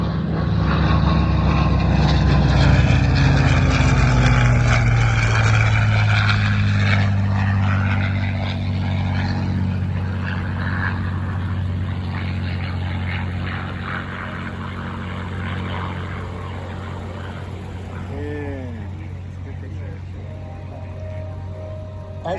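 Propeller warbirds at the Willow Run Airport airshow, including a Merlin-engined P-51 Mustang and a Corsair, roar loudly past in a sustained droning sweep with a falling pitch, fading slightly toward the end.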